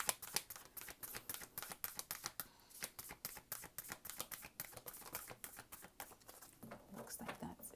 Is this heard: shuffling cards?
yes